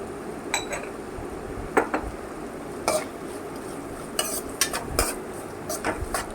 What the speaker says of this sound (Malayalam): ഇത് നന്നായി വഴറ്റിയെടുക്കണം.